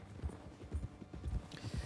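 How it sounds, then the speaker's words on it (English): Horse hooves clip-clop in Red Dead Redemption 2 as the horse rides through the wilderness, a quiet, steady rhythm of soft thuds, about two per half-second, with no talk over them. "all this just riding on the horse for bloody ages in wilderness"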